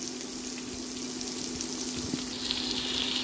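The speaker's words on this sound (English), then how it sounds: "Fry it for about a minute." Green beans and mixed vegetables fry in a pan with a soft, steady sizzle and faint crackles throughout, a low hum underneath and no voices.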